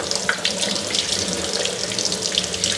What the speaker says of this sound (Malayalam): ഇതേപോലെ ഒരു അരിപ്പ് പാത്രത്തിൻ്റെ അകത്തോട്ട് ഇട്ടിട്ട് ഇതേപോലെ കുറച്ച് വെള്ളം ഒഴിച്ച്